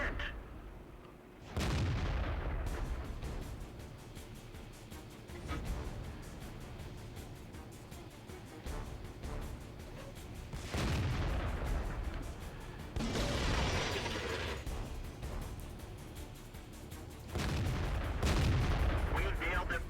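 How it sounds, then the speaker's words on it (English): Heavy artillery fire in the tank game World of Tanks: repeated booming impacts land at irregular intervals, several loud blasts over a dense, rumbling battle background. "Artillery finally nails the Stug."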